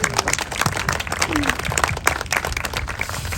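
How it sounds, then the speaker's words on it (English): A crowd at a college completion ceremony in Yellowknife claps for live musicians, with brisk, continuous applause and some voices mixed in. "Can I get a big round of applause for Steve and Dawn, who are musicians today?"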